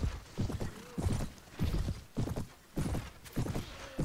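A horse's hooves clip-clop in a regular galloping rhythm in the Mount & Blade video game, in evenly spaced bursts of thuds at moderate volume with no talking over them.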